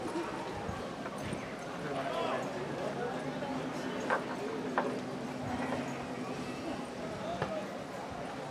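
Three horses gallop over 250 yards in a race, with hoofbeats drumming at a distance under an announcer talking throughout.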